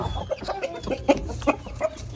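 A rooster and hens cluck in short, repeated bursts close by in a poultry sale setting, with a steady low hum underneath.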